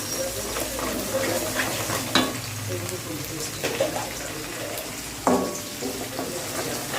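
Onions with a pinch of salt frying in a pan for an eggplant kara kulambu, a steady close sizzle with occasional stirring scrapes and clinks, and a voice talking over it.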